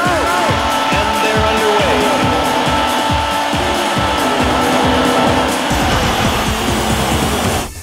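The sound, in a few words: race car engine and tire squeal in the Sega Saturn game Daytona USA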